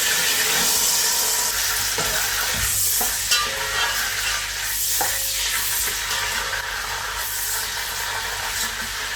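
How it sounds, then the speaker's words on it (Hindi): Peas sizzle in a pulao pan as a spoon stirs and scrapes through the rice, a close, continuous frying hiss with soft clinks and no voices. "तो इसी टाइम में हम इसमें मटर ऐड करके इसको अच्छे से कुक करेंगे।"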